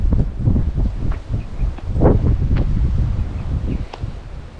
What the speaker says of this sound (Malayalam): നല്ല തണുത്ത കാറ്റുണ്ട്.